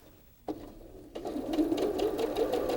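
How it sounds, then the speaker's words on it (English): Sewing machine chain-sewing pieced quilt block rows, starting after a couple of brief clicks and then running in a steady, close, continuous whir. "And just chain sew those together."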